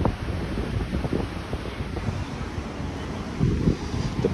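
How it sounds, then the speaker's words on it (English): Wild ocean surf churns ahead of an approaching tropical storm, heard from a hotel penthouse, with a steady roar of waves and strong wind buffeting the microphone throughout. "apparently we have a tropical storm coming in, so the waves are pretty wild"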